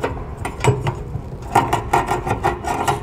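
A clamp is fitted onto the fuel pipe of a Hero HF Deluxe motorcycle, producing close, irregular clicks, scrapes and rubbing handling noises in a steady series of short bursts.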